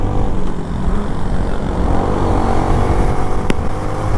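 A small motorcycle rides along a road in Central Java during the 2021 homecoming traffic, its engine giving a steady close drone with wind rush and no talking.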